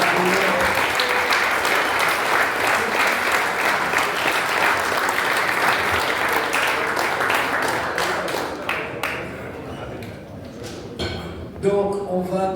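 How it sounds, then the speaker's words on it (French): An audience at a French Iberian ham-cutting championship gives loud, dense applause that holds steady, then thins to scattered claps, with a voice starting to speak near the end. "on va quand même les applaudir"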